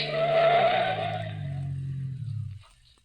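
Sound effect of a car skidding around a curve: a loud, sustained tire squeal over a growling engine that holds for over two seconds, then drops away abruptly into quiet.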